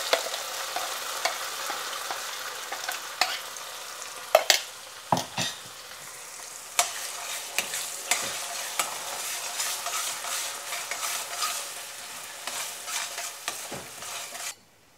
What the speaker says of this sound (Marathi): या मसाल्याला छान तेल सुटेपर्यंत आपल्याला परतून घ्यायचं